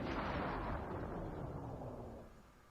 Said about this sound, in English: There was a sudden explosion.